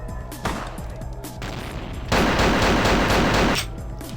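Gunfire bursts in Vampire: Bloodlines, with loud rapid blasts and a dense sustained volley in the middle, consistent with shotgun and other weapons firing close by in a combat scene.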